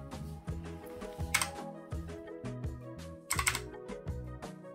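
Rapid keystrokes clack on a Razer Huntsman Mini 60% mechanical keyboard in uneven bursts, close and fairly quiet, with no voices.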